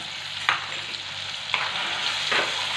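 Garlic and a little cumin sizzle in hot oil for a tadka, a steady moderate frying hiss broken by three brief scraping stirs.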